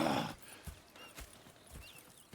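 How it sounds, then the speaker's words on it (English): Horses in the video game Red Dead Redemption 2 walking with slow, evenly spaced hoof clops and a faint whinny, after a brief louder burst at the start. "Go check the horses are ready."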